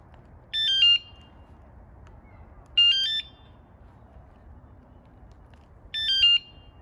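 Three short, piercing electronic chirping bursts from an electric scooter alarm set off by remote, spaced a couple of seconds apart over a quiet background.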